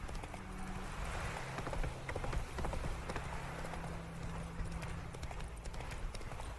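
Horse hooves clip-clop at a steady, quick rhythm on a road in The Witcher 3, moderately close under game ambience and a low music drone, with no talking.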